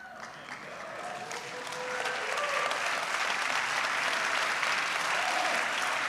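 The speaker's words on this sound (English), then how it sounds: "Perfect place to clap." A crowd bursts into applause during a sermon-style talk, steady dense clapping from many hands that swells after a couple of seconds and holds loud and even to the end.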